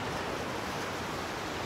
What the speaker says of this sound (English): I'm going to show you the whole beach today.